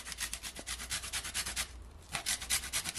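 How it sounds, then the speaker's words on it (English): Lime zest being grated for a fruit cake, a quick run of rhythmic rasping strokes up close, with a brief pause partway through, and nobody talking. "grate this zest"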